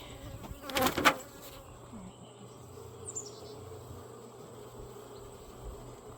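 Honeybees buzz around an open hive during a beekeeping inspection, a steady close hum with a louder burst as bees fly past early on, then a softer continuous drone.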